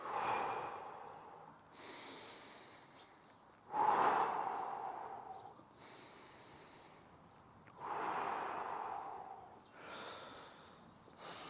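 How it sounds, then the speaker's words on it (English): Slow, deep breaths during a hip mobility stretch, each long airy inhale or exhale rising and fading in turn, close and clear with no talking. "Couple of breaths."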